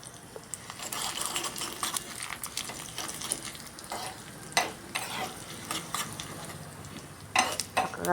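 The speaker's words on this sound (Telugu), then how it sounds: "సన్న మంట మీద వేగనివ్వాలండి పోపు" Dried red chilli pieces frying in hot oil over a low flame while spices are tempered, a steady soft sizzle with scattered scraping stirs and a few sharper clinks, no talk.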